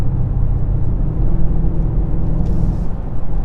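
Steady low rumble of a 2022 Mercedes-AMG GLS 63 cruising on the Autobahn in comfort mode, a continuous engine and road drone heard from inside the cabin with no pauses.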